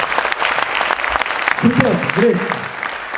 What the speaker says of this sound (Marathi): एकदा जोरदार टाळ्या परत एकदा